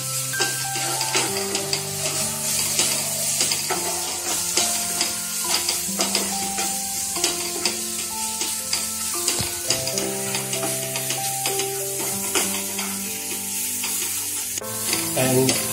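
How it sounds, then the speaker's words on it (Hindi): Amritsari chhole masala sautéing in oil, a continuous close sizzle with frequent stirring scrapes, while tonal background music plays steadily underneath. "एंड हम इसको सौते करेंगे जब तक ऑयल"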